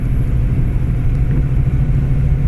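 A 1986 Ford Mustang LX convertible, driven on a snowy road, gives off a loud, steady low engine rumble just after a downshift, heard from inside the car with no talking.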